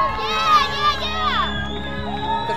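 Spectators along the road at a city marathon cheering on runners, a loud nearby crowd of shouting and whooping voices including children, continuous over the whole stretch.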